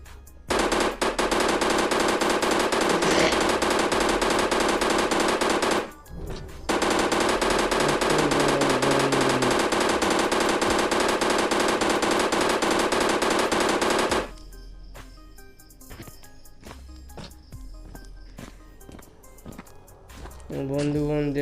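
Rapid automatic gunfire from a weapon in a 3D shooting video game rattles loud and nearly continuous, breaking off briefly, then gives way to scattered single shots. Someone talks throughout.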